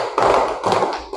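Hands clap in a classroom rhythm pattern, a few close, loud claps in quick groups, alone without talk.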